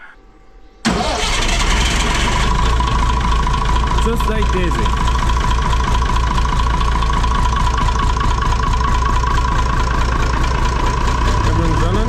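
Massey Ferguson 1200 tractor under restoration: a moment of near quiet, then the engine catches abruptly and settles into a loud, steady diesel idle with a regular throbbing beat, while someone speaks briefly over it.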